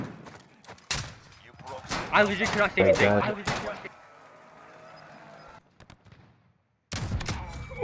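Rapid bursts of video game gunfire crackle in close, sharp volleys, with a lull of fainter background noise before another burst, while a player talks over the action.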